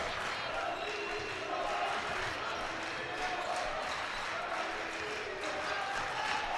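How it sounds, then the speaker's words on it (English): A high school basketball crowd cheers at a Berman game, a steady, distant wash of voices and noise with faint ball bounces, running under a commentator's talk. "Berman crowd really getting into it"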